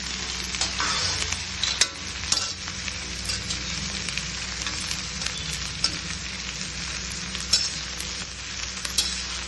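Mixed vegetables stir-fried on a high flame for street-style veg hakka noodles give a constant bright sizzle, broken by repeated tossing and clanks of a spatula against the wok.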